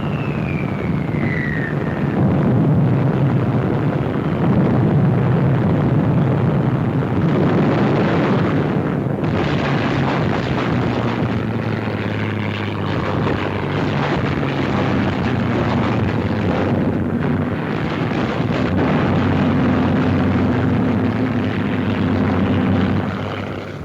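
Wartime bombers and fighter aircraft attacking in a desert battle, with a continuous loud roar of engines and rumbling explosions filling the whole stretch, dense and heavy with no clear pauses.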